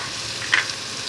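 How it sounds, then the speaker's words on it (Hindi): Meat goes into a hot pan of spiced dal chana gosht with chilies and curry leaves, giving a steady, bright sizzle and a brief louder hiss as it lands, close, with no talking. "शामिल करते हैं अपना ये गोश्त"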